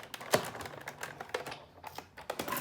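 A die cutting and embossing machine runs with a quick series of soft, irregular clicks and clacks close by, fairly quiet overall.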